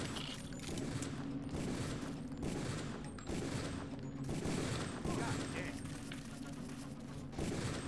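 Rapid gunfire from the video game Deus Ex 2 rattles in dense bursts at close range, mixed with game sound and a continuous low drone across the whole stretch.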